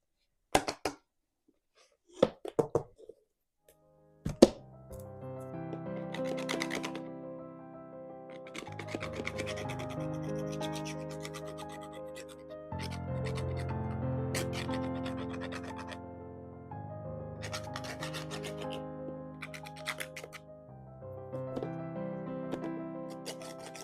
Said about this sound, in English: going with sandpaper as well. Especially on wood, works really well.